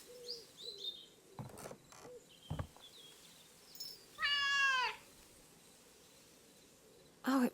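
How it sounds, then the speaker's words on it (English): Cat meowing in Dordogne, a video game: a single clear, drawn-out meow near the middle, with scattered soft clicks and brief noises around it and another short sound at the end. "Oh, it must be Nora's cat"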